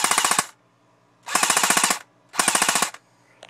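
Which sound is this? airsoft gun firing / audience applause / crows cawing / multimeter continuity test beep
airsoft gun firing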